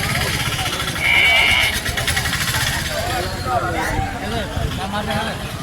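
A single goat bleat rises near the start over a noisy Sunday sheep and goat market at Chilpur Gutta, with people talking throughout and a motorbike engine briefly audible.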